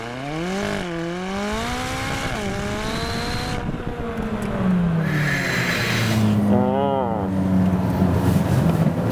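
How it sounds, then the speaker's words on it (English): McLaren 570S with a twin-turbo 3.8-liter V8 launching under launch control at full throttle, engine note climbing steeply through rapid gear changes, loud and close, a rising wail with brief dips at each shift. "I press active, left pedal firmly depressed, launch control, launch mode active,"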